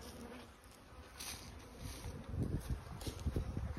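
Honeybees buzz around hive frames holding honey, brood and pollen, a faint continuous drone with low rumbling handling bumps and wind-like noise, nearby but quiet.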